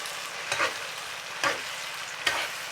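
Tomato paste hits a pan of frying stinging catfish, sizzling at moderate volume with three distinct bursts of stirring or scraping spaced about a second apart, no voices.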